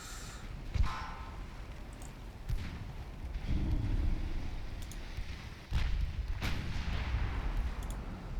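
Naval turret guns fire from pre-dreadnought warships in a naval combat game, several deep booming shots over a low rumbling background, with heavier blasts near the middle and end.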